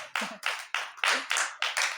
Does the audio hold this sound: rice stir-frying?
no